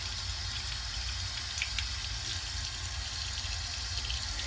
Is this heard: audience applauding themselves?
no